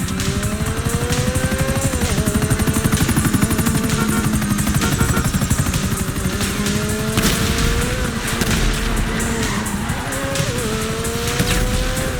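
A steady rotor-like drone from a helicopter in the video game GTA V, with shifting engine tones, loud and continuous, mixed with vehicle noise and occasional squeals.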